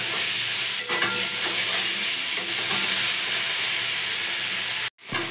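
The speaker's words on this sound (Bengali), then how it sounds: "চিংড়ি মাছগুলো তেলে ভালো করে ভেজে নেব।" Prawns fry in hot oil in a wok, giving a loud, continuous close-up sizzle with occasional stirring scrapes that cuts off abruptly near the end.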